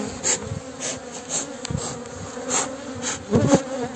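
Honeybees hum continuously around an opened split hive being inspected, a close, steady buzz with individual bees swelling louder as they fly past, and no voices.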